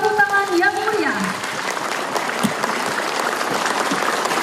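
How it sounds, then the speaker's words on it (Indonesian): An audience breaks into lively applause at an air force base ceremony in Jakarta, a dense sustained wash of clapping that rises as an announcer's voice trails off at the start. "Marilah kita sambut dengan tepuk tangan yang meriah."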